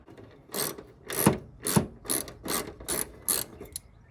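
A ratchet wrench clicks through seven or eight quick, loud strokes while loosening 10mm bolts on the grille of an R53 Mini Cooper S, rhythmic and close, with no voices.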